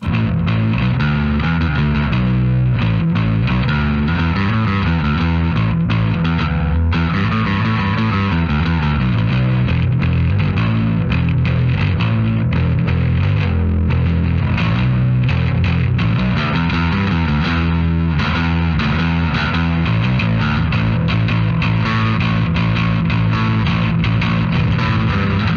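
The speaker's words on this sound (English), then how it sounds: "Now I'm just going to add some gain to the vintage microtubes." A Darkglass Microtubes 900 bass amp is played with gain added to its vintage microtubes channel, drive at noon, giving a loud, continuous gritty distorted bass line of rhythmic notes throughout.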